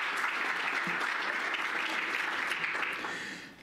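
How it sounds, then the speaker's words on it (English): An audience at a symposium welcome session applauds the event sponsors, steady dense clapping from a sizeable crowd, close and sustained, fading out at the end. "so a round of applause to all the sponsors."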